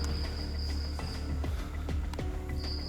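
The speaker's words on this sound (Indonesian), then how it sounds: "Suara Ini mesin Mas, mesin cucinya." A steady low machine hum fills the space, with a thin high whine and scattered clicks and knocks over it.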